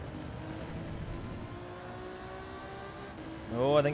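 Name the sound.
race car passing, from a video game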